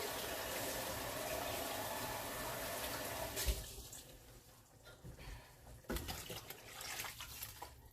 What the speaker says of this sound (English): And then you're also going to add water.